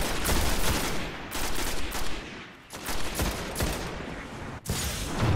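DMR rifle fire in a Destiny beta PvP match, a fast run of sharp, loud shots in close succession, with brief gaps between volleys and almost no talking.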